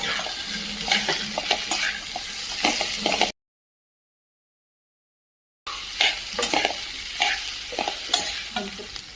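Potato curry with crushed potatoes being stirred in a pan, repeated spatula scrapes and clinks over a constant sizzle, close and busy, broken by a short gap of silence midway.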